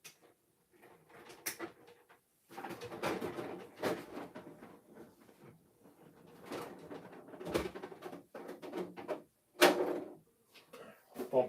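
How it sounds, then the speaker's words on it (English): The door of a toy Castle Grayskull, the 1980s playset, pops open with a short plastic snap among scattered clicks and handling knocks of the toy, fairly close and sporadic. "Oh, the door popped open."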